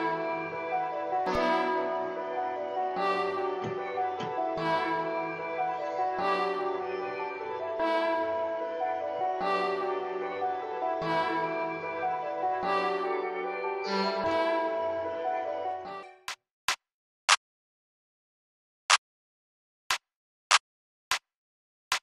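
A beat made in FL Studio plays back with half-time drums, a loud looping groove for about sixteen seconds that cuts off abruptly, followed by a few isolated sharp hits separated by silence.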